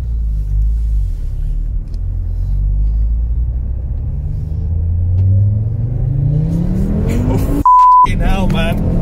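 Stage 3 big-turbo Audi TT RS MK2 pulls hard from inside the cabin, a loud rising engine roar and rumble building steadily before a brief beep near the end.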